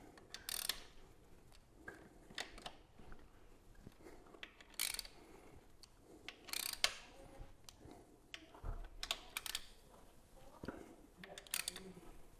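A ratchet nips up the clutch cover bolts on a Fireblade motorbike, giving short bursts of clicking with small metallic knocks and pauses between bolts, close and fairly quiet.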